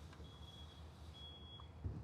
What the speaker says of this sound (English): And there's a bus reversing outside, so disregard that beeping.